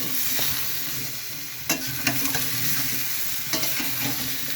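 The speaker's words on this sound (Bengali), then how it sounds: "এই যে আমি নাড়াচাড়া করে একটু দিয়ে দেখি" Bottle gourd and snakehead fish curry being stirred in a sizzling pan, with a steady frying hiss and a few distinct scrapes and knocks of a spoon against the pan.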